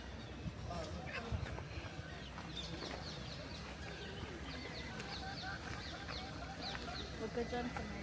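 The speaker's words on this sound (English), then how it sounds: "Look, chicken. Chicken. There's a bunch of them." Chickens cluck and call repeatedly among trees on the Manoa Falls hiking trail, several birds close by, steady busy outdoor ambience with people talking over them throughout.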